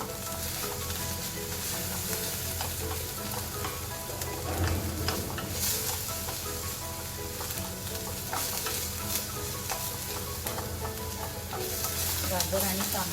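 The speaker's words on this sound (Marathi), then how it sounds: "आपण हे दोन्ही परतून घेऊ आता" Potatoes and peas sautéing in oil for a Marathi-style bhaji, a steady close sizzle with scraping stirs and occasional spoon clinks throughout, no talking.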